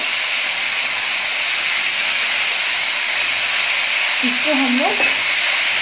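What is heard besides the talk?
onion and tomato frying in pan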